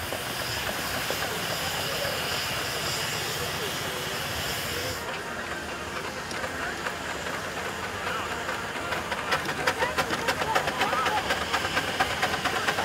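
A Garrett steam engine runs at a vintage steam rally, its steady hiss and mechanical chuffing heard at moderate distance amid outdoor crowd noise, with brief rapid clicking toward the end.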